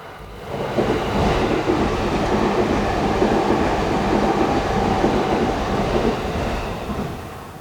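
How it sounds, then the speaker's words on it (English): A train rolls past close by, a loud, steady rumble and rattle of rail cars that swells in within the first second and holds for several seconds before easing slightly at the end, with no talking. "let me let this train go by. Here it comes."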